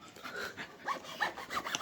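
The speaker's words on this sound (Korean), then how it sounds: "뭐 톱질하세요?" A Pokémon card box is sawn open: quiet, close rasping strokes in an uneven back-and-forth rhythm.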